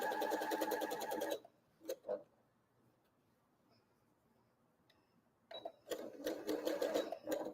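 Sewing machine running in two steady bursts while stitching along a quilt block seam for a Peony Star block, with a quiet pause and a few brief clicks between runs.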